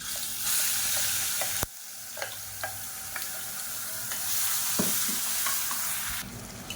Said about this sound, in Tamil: இப்போ இந்த வெங்காயம் கலர் மாதிரி வரணும், அந்தளவுக்கு நல்லா வதக்கி விட்டுக்கலாம்.